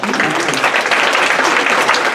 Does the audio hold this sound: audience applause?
yes